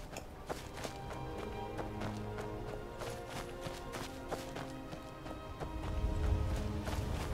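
Horse hooves clip-clop steadily in the video game Skyrim, a faint repeated rhythm of hoof taps on a road under game music and ambience.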